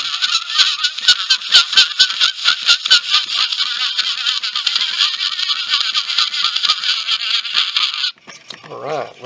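An Edison phonograph playing Dixie with no horn fitted, giving a thin, nasal, honking tone with rhythmic pulses, loud and close, until it cuts out abruptly near the end, no talking.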